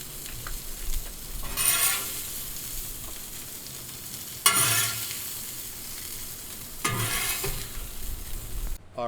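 Shrimp sizzle on a Blackstone flat-top griddle, with steady frying crackle and three louder bursts of scraping or stirring spread across the stretch.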